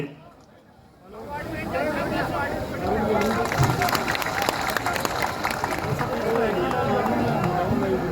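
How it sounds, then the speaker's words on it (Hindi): A crowd applauds at a farmers' conference in Khetri, a brief quiet giving way after a second to sustained clapping and hubbub that swells and continues loudly to the end. "जोरदार तालियां बजती रहे।"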